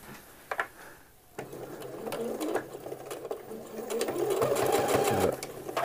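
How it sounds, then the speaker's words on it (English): A sewing machine stitches a men's shirt 3 to 4 millimetres in from a folded edge, starting at the underarm with a backstitch. After a quiet opening second, a steady, close mechanical whirr runs continuously and grows louder toward the end. "I'm going to go 3 or 4 millimeters in from that folded edge there. Back stitch there,"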